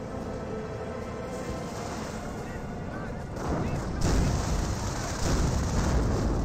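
Artillery and mortar shells burst in Company of Heroes, a dense rumbling wash of explosions that swells louder midway and stays heavy to the end, with faint talk underneath.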